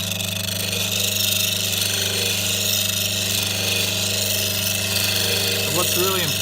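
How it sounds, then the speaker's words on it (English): A bench grinder hums steadily with a constant motor drone while a chisel bevel is ground against the wheel, close and continuous, with brief grinding contact near the end and someone talking over it. "Now we want to grind the bevel away back to that edge there."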